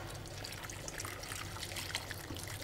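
A small amount of water is poured into a non-stick pan of finely diced zucchini, making a steady, close trickling and splashing that runs the whole time at an even level, with no voices.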